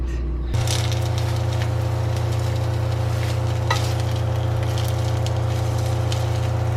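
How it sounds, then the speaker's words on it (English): Veggie burger frying in a pan, a steady close sizzle with a constant low hum beneath and occasional crackling pops. "Cooking my veggie burger."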